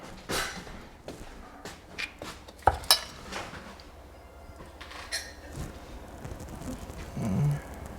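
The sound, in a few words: spooning ricotta cheese onto pizza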